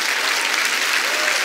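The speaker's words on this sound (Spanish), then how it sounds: "Dale un aplauso al Señor." Congregation applause during a church conference sermon, a dense, even roar of many hands clapping continuously in a large hall.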